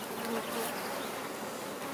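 Honeybees buzz densely around an open hive during grafting work, a close, steady swarm drone with no speech.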